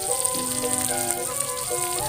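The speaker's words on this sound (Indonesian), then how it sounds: "Oke, bosku, sekarang kita goreng tahu." Tofu fries in hot oil for Sundanese nasi liwet cooking, with a continuous crackling sizzle close by and sustained tonal music beneath it.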